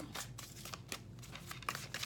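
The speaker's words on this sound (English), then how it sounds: "And these cards have been pre-shuffled. We're doing a little bit more shuffling on camera." Tarot cards are shuffled by hand on camera, a soft, close, continuous riffling and rustling with small flicks, faint and alone.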